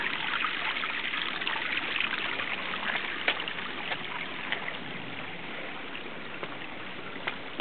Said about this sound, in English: The water's flowing quite strongly across, and it's taking a lot of the leaves with it